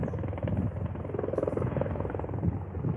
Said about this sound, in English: There's a helicopter approaching.